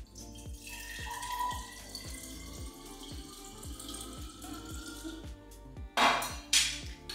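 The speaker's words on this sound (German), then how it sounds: "Und das Wasser, ja, das fülle ich jetzt gleich da rein." Water runs and splashes into a Thermomix mixing bowl while chili con carne is being made, a steady pour with a recurring low rhythmic thump from the machine and a louder splash near the end.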